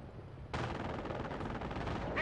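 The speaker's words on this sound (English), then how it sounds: "Eat some lead, Jerry!" Machine gun fire in the Company of Heroes video game bursts in suddenly after a near-silent start, then rattles on as sustained rapid automatic fire.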